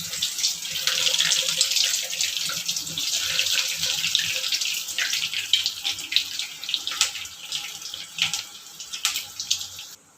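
Bread egg cutlets fry in hot oil, giving a dense, steady sizzling hiss with scattered crackles and pops that grow sparser toward the end, with no talking.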